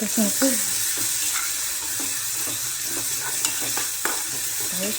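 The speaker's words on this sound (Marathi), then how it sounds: "छान परतू द्या कांदा टोमॅटो सगळं एक झालं पाहिजे" Onion and tomato for a chicken curry sautéing in a pan, a steady close sizzle with repeated scraping stirs of a spoon through the mixture, no voices.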